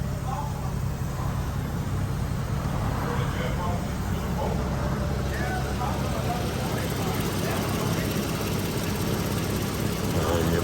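A modified Infiniti G37 idles steadily, its exhaust ticking and puffing from a badly leaking high-flow cat gasket fitted with makeshift gaskets; a continuous close, loud rumble runs throughout, with someone talking over it.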